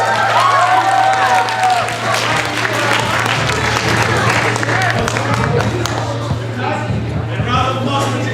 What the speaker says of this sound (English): Round of applause for Uzma.